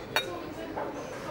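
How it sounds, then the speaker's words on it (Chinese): Glasses clink once in a celebratory toast, a single short bright chime near the start, followed by a quiet room hum. "李边小姐，干杯！"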